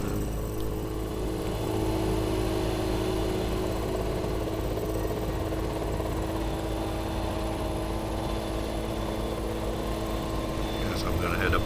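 A helicopter in the video game Farming Simulator 17 drones on continuously with steady engine and rotor hum, loud and unbroken throughout.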